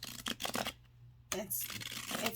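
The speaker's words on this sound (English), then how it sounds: "those of you who probably want to know how the cards shuffle" A new deck of cardstock tarot cards is shuffled in two short riffling bursts separated by a brief pause, close and fairly quiet.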